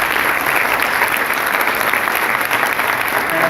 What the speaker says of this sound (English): please give a round of applause to Professor Sovani, Mrs. Srinidhi Deshpande